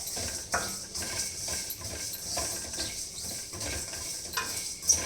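A utensil scrapes and clinks steadily against a pan while fenugreek seeds and spices are dry-roasted, producing irregular light taps and rattles at close range with no talk over it.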